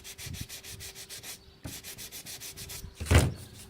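Car body panel being sanded by hand with 180 grit sandpaper during body work, steady back-and-forth rubbing strokes in repeated bursts with a brief pause, ending in a louder scuff, no talking.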